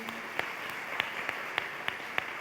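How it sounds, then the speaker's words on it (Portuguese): An audience at a talk applauds the fathers in the room, a dense wash of clapping with sharper regular claps standing out about twice a second. Nobody speaks over it. "Mulheres, vamos aplaudir esses homens."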